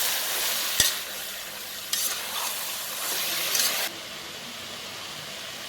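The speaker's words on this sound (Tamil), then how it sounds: "போட்டு நல்லா கிளறி விட்டுருங்க." Vegetable biryani masala with coriander and chili powders is stirred in a pan, a close steady sizzling hiss with spoon scrapes and clatters at intervals, the frying noise dropping a little toward the end, no talking.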